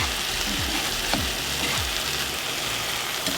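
Eggs and vegetables frying in a pan for a quick Whole30 breakfast, giving a loud, dense, continuous sizzle with a few soft stirring scrapes underneath.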